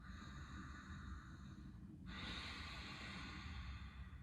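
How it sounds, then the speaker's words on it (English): Slow, breathy ujjayi (ocean) breathing through the nose, a soft throaty hiss at the back of the throat, one long exhale shifting into another breath midway, close and quiet with no talking. "also known as ocean breathing."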